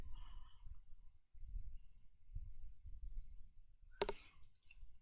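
Keyboard key presses for copy and paste shortcuts, a short cluster of crisp clicks near the end over a low steady hum, fairly faint and close.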